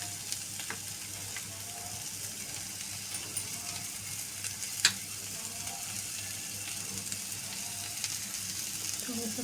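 Roasted besan (gram flour) being stir-fried in a pan with spices for besan mirchi bhaji: a soft, steady sizzle with faint scraping of the spatula and an occasional sharper click, fairly quiet and without speech.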